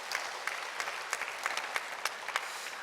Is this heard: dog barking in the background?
no